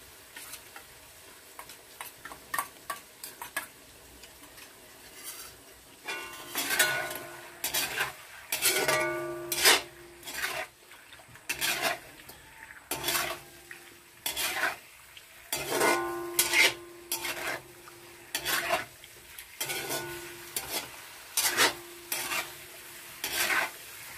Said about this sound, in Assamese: এনেকৈ অলপ সময় লৰাই পেলাই ভাজি ল'ম।